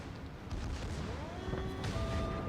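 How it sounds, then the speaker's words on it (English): Battleship main guns firing a salvo in the World of Warships naval combat game, a dense sustained rumble of booming artillery blasts spread over a couple of seconds, loud and continuous with no talking. "Fire a salvo."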